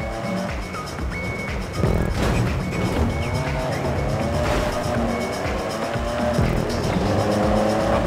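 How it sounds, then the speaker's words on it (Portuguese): A car engine roars in the Grand Theft Auto V video game, revving hard with tire squeals and a crash-like thud mixed in, loud and continuous throughout. "A coisa boa desse carro é o ronco"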